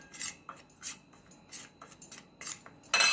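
A spoon working herbal kuppaimeni powder into coconut oil in a small bowl, a series of light rhythmic clinks and scrapes, with a brighter clatter at the end.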